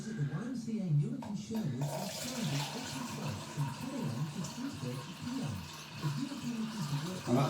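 Water pours and gurgles steadily down a newly plumbed shower drain, a continuous wet rush with broadband splashing throughout, while someone talks over it in the foreground.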